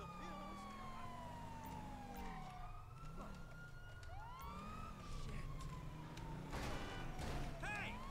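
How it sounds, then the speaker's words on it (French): Police car sirens wail and yelp in GTA V with the LSPDFR mod, several overlapping rising and falling tones over a steady engine rumble, loud and close throughout. "Peut-être mettre les sirènes."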